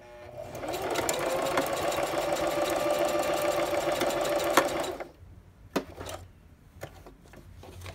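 A sewing machine stitches a zigzag through paper journal signatures, a close steady mechanical whir for about five seconds that stops abruptly, followed by a few sharp clicks and handling knocks.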